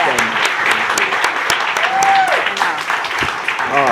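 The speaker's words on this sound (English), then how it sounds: "Please give Megan the round of applause she deserves." Summit audience gives a speaker sustained applause, a steady wash of clapping from many hands with voices talking over it and a few sharper claps standing out.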